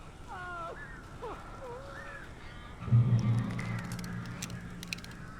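Crows cawing in the Alan Wake video game: a few harsh, wavering calls in the first half, then a low droning rumble takes over with faint scattered clicks.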